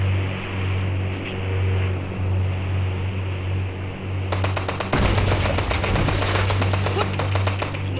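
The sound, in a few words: AK rifle gunfire in video game GTA V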